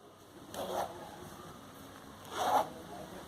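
A zipper on a crocheted coin purse is pulled twice, each a short scratchy zip about two seconds apart, close by in an otherwise quiet room.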